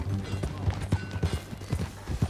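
Horse hooves clip-clop at a steady riding pace in the video game Red Dead Redemption 2, distinct close thuds repeating under a low background hum, with a voice briefly heard.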